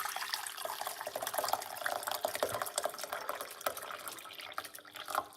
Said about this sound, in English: Let's put some hot water from my kettle